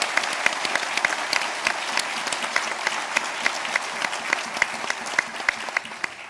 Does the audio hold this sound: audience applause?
yes